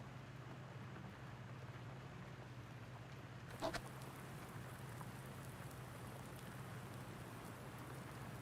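Steady rain falls in the farming video game Farming Simulator 19, a soft, even patter under a low hum, broken briefly by one small knock partway through.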